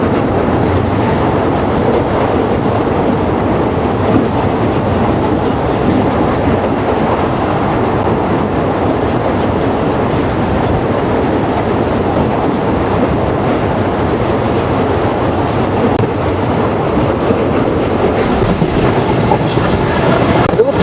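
A Mongla commuter train crosses the Rupsa rail bridge over the Rupsa River near Khulna, heard from on board. A loud, continuous rumble and rhythmic clatter of the wheels carries on steadily without a break.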